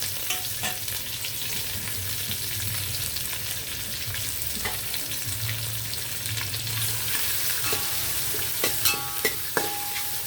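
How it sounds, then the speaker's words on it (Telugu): Sliced onions, green chillies, curry leaves and coriander dropped into hot oil with spices for a chicken curry, giving a steady loud sizzle and crackle with occasional scrapes and clinks of a stirring spoon. "ఇప్పుడు మనం ఉల్లిపాయ పచ్చిమిర్చి కరివేపాకు అలాగే కొత్తిమీర ఇవి వేసేద్దాం"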